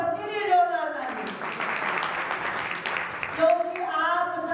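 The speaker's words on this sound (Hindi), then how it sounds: "एक बार आप सबके लिए जोरदार ताली" A crowd gathered at a Nag Panchami yajna and havan ceremony applauds for a couple of seconds, a dense wash of clapping set between a man's amplified speech before and after.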